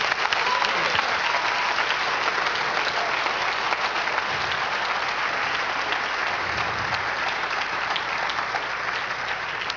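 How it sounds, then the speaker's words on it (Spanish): Church congregation during a spiritual warfare service gives sustained, even applause for the Lord, a dense continuous roar of many hands that holds steady for nearly ten seconds. "Denle un aplauso al Señor"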